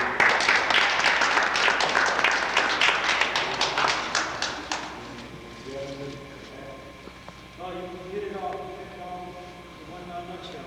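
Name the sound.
applause for boot camp youths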